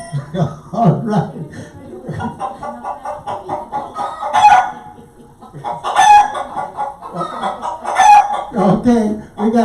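Chickens clucking and a rooster crowing, played over a radio show broadcast: loud, busy, close-sounding clucks with several drawn-out crows rising above them at intervals.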